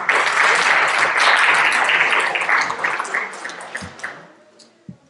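Hearty audience applause at a heritage conference in France, dense clapping that holds strong for a few seconds, then thins out and dies away to a few last scattered claps.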